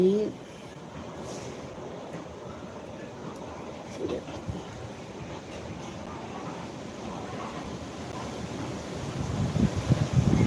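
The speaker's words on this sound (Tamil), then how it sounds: "காற்று சத்தம் கேட்குதா? கண்டிப்பாக கேட்கும்." Strong, steady wind roars and buffets the microphone with a low rumble, swelling louder in the final seconds.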